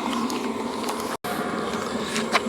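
An RV underbelly heater runs with a steady, close whirring hum and a faint buzzing texture, unbroken except for a brief cut near the middle, with no talking.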